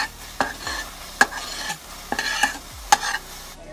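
Three eggs cooking in a hot pan, a soft sizzle beneath several sharp scrapes and taps of a utensil stirring against the pan, with no talking.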